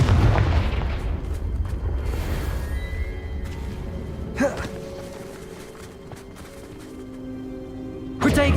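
Fiery Confringo spell blasts in Hogwarts Legacy, a dense rumbling explosion at the start that trails into a low roar, followed by a couple of sharper magical bursts and pops later on, with game effects throughout.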